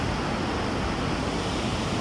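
River rapids in a Nagano valley, a dense unbroken rush of water heard as steady broadband roaring noise, fairly close and alone.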